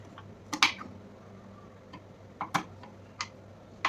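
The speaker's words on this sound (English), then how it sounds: "There is no other way to chop this chocolate." A knife chops through a slab of chocolate into chunks, giving a few sharp, close clicks and taps at irregular intervals over a quiet background hum.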